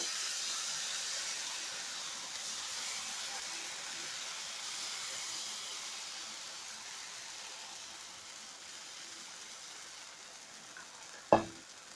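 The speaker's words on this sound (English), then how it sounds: "Once the pan is hot, now let me add the batter to it." Dosa batter on a hot pan gives a soft, steady sizzle and hiss that fades slowly, with a single sharp click near the end; quiet and close, with no talking.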